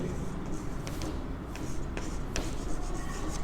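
A maths solution on commission, brokerage and discount being written out by hand, heard as faint, repeated scratchy strokes over a steady background hiss.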